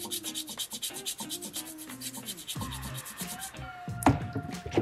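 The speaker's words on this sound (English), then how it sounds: "it's okay if you also scrub across the tail and carve that down as well" Rhythmic abrasive scrubbing on a soapstone cat sculpture, rapid even back-and-forth rasping strokes that slow into scraping carving passes, close and fairly quiet with no talk.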